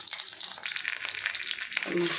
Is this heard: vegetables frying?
yes